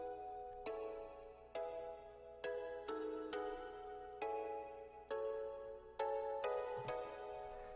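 Chord progression from a tropical-style beat, soft keyboard-like chords struck in a steady rhythm about once per second, each decaying gently, quiet and alone.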